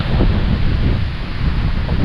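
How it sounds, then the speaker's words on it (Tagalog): Strong wind gusting outdoors, a loud, continuous rushing roar buffeting the microphone with no pauses, alone and without voices. "Malakas pa rin yung hangin."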